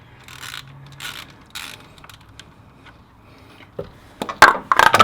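A 1/2 inch drive ratchet turns an 8mm Allen wrench on a Land Cruiser 1HZ diesel during a timing belt change, with soft handling noises first and then a loud run of close ratcheting clicks at the end.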